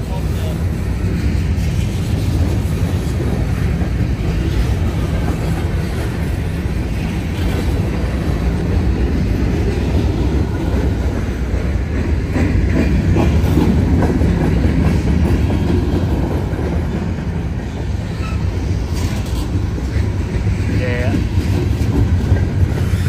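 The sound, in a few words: freight train passing with locomotives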